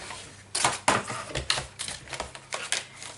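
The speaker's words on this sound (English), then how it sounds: "I'll just bring in my trimmer." Paper trimmer handled and drawn through card for a boxed greeting card, giving a quick run of sharp clicks, slides and clacks, close and fairly loud with no talk.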